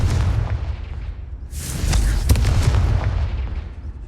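A Confringo fire spell explodes in Hogwarts Legacy, a loud broadband blast hitting midway and rolling into booming crackle that fades slowly, all under steady low rumble.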